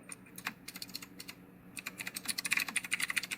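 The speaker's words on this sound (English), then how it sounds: "Sorry if my keyboard's really loud." Rapid clattering keystrokes on a loud keyboard, sparse at first then speeding into a dense, continuous run of clicks, close up with no talking.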